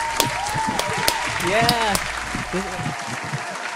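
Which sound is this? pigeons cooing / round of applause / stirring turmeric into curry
round of applause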